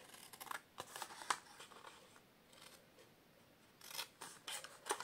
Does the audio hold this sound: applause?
no